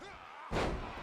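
A heavy slam lands in a wrestling video game, a single sudden thud that bursts in halfway through and rings on, with a voice talking over it.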